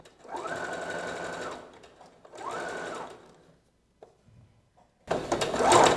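Sewing machine stitching elastic onto fabric while making panties, two steady whirring runs of stitching separated by a pause, then a short handling noise and a louder burst of mechanical clatter at the end.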